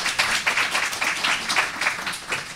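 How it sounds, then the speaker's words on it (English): An audience at a senior health and housing forum gives a short burst of steady, dense applause for Brenda. The clapping is close and fills the room with no voices over it. "another round of applause for Brenda and her leadership here in the state and at Housing Works"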